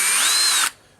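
A power drill set to first gear spins a 3.5-inch Harbor Freight hole saw, a loud, steady high whine for most of a second that cuts off abruptly, leaving only faint background hiss.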